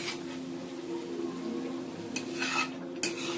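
Aloo posto, potatoes in poppy seed paste, cooks quietly in a pan with a faint, steady sizzle and two short utensil scrapes against the pan near the end.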